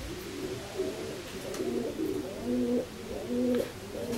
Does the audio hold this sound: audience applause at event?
no